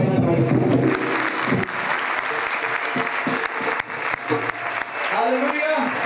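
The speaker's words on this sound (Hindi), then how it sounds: "जोरदार ताली बजाओ" A church congregation at a Sunday meeting breaks into loud, sustained applause that fills the room, with voices mixed into the clapping throughout.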